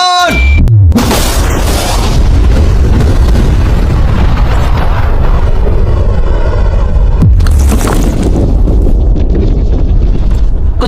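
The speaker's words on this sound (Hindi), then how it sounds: "ये एक असली धमाका है।" A huge, deep explosion booms out and rumbles on for several seconds, followed by a second heavy blast with lingering roar and debris, near the world's largest shredder and a Lamborghini.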